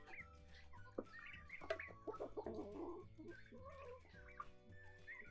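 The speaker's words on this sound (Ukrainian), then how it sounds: "Ось така то наша птичка-молодечка. Півники." Several young Leghorn roosters cluck and squawk close by in overlapping bursts, some calls rising into short crowing-like cries, with a low steady hum underneath.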